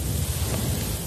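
Food sizzling on a barbecue grill in an advert gives a steady, loud, crackling hiss that stays even throughout, with no voices.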